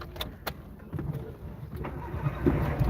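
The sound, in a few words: car engine starting to run the AC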